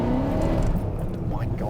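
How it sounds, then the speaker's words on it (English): A supercharged car drives with a steady low engine drone close by from the cabin, the pitch rising toward the end as it accelerates. People talk over it. "We're going out for a drive in a supercharged."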